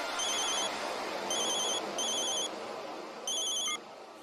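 A telephone rings in repeated electronic bursts, four trills separated by short pauses, fairly clear over a faint background hiss.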